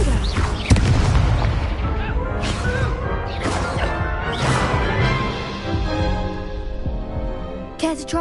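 Confringo spell explosion in Hogwarts Legacy, a sharp heavy boom followed by rumbling, crackling blasts and bursts that stay loud and dense for several seconds in a game setting.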